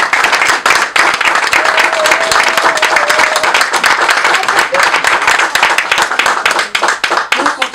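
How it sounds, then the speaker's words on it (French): Loud, sustained clapping from a room of people at a political party's New Year greetings event in Paris, dense and continuous throughout, with faint voices mixed underneath. "Bon, je commence par vous applaudir."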